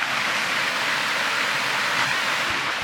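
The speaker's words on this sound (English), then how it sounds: "this being Indiana's largest waterfall by volume" Cataract Falls, Indiana's largest waterfall by volume, sends up a steady, loud broadband roar of falling water close by, even and unbroken with no voices.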